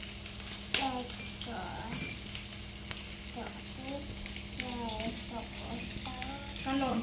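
Food fries in hot oil, sizzling steadily with a few sharp pops and spoon scrapes, while a child and an adult talk nearby.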